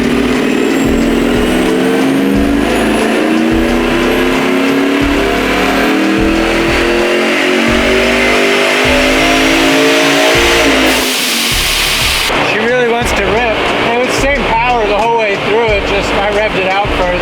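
A loud supercharged car engine on a dyno revs steadily higher for about eleven seconds, then cuts off abruptly into sputtering, popping deceleration with lower rumbling.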